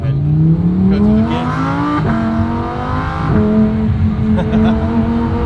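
A Lamborghini Huracan, driven on a private estate, revs hard and shifts up through the gears, each rising engine note dropping sharply at the change before climbing again, loud and close from inside the cabin, with a voice talking over it.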